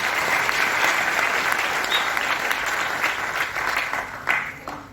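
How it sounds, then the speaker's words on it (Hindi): A large audience at a business training gathering in Mumbai claps loudly and steadily for several seconds, a dense wash of hands that fades slightly near the end. "जोरदार तालियां बच्चे ले जाएंगे"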